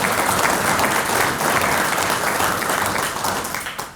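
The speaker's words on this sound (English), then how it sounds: "You can applaud, Dave." A large audience at an American Legion National Executive Committee address breaks into dense, sustained applause that fills the room at full volume and stays steady throughout.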